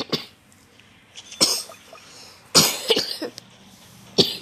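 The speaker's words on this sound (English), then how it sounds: "I'm coughing so much." Several sharp, close coughs come in separate bursts, a lone one near the start and then clusters, with quiet gaps between them and no talk.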